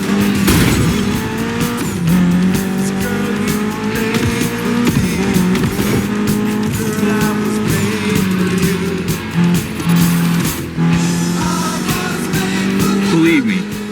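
A Mitsubishi inline four-cylinder car engine of about 280 horsepower revs loudly in The Crew Motorfest, its pitch rising and falling through gear changes with tire squeal and skidding throughout.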